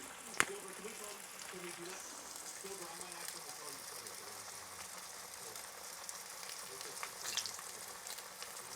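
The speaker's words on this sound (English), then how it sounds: "Be careful because the grease is splattering." Seasoned pot roast searing in a pan with black pepper and Italian garlic seasoning, grease sizzling steadily and popping in small sharp spatters, faint and close, with intermittent talk over it.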